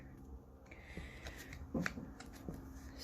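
A tarot deck is shuffled by hand in a quiet room: soft, faint riffling and card flicks lasting a few seconds, with no talk over them.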